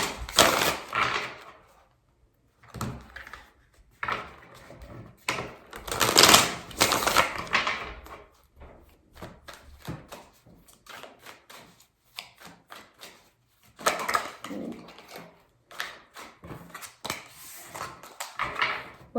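Tarot cards are shuffled in three separate bursts of quick riffling and slapping, close and crisp, with quiet pauses between them.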